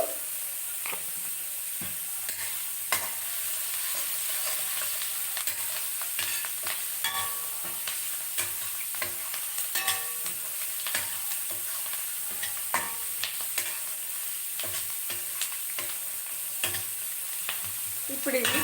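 Mung beans with turmeric stir-frying in a pan, a soft continuous sizzle under frequent scraping and clinking of a spoon, steady and fairly quiet throughout.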